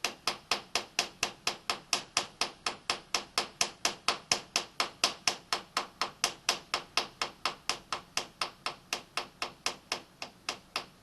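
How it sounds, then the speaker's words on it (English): Rapid, steady series of sharp metallic taps on the side of a milling machine vise, roughly four per second, close and clear with no talking. "you can see while I'm tapping on the vise"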